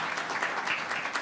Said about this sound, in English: let us give everyone a round of applause who have come and embraced this event